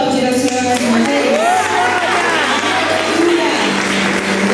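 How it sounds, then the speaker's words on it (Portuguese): A church congregation applauds during a service, steady clapping blended with sustained sung or shouted voices and tonal sounds ringing over it. "Você pode aplaudir ao Senhor mais uma vez?"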